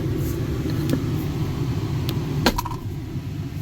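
A Ford XL work truck idles with its AC on, a steady low rumble running throughout, broken by a few light clicks and taps nearby.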